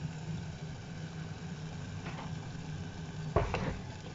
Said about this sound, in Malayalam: കോഴിമുട്ട ഇതിനകത്തോട്ട് ഒഴിക്കുവാണ്